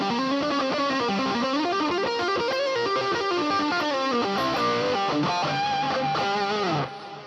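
Lead guitar tone from a Hotone Ampero multi-effects unit, loud and sustained, with singing melodic notes over distorted harmonics that carry steadily for about seven seconds before dropping off at the end.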